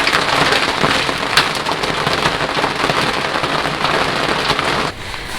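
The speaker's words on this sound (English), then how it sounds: "Yeah, massive hailstones." Loud, continuous rattling of massive hailstones pelting a narrowboat roof during a storm, a dense roar of rapid impacts that drops off abruptly near the end.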